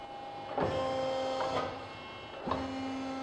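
A press brake bending quarter-inch thick metal, giving a steady hydraulic whine with three distinct clunks and tonal shifts as the ram strokes, close and alone with no speech.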